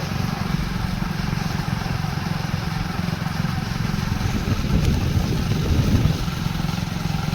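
Motorcycles ridden by visitors near a canal at Sukhi Dam, a steady low engine drone close by that swells slightly as a bike passes, with no talk.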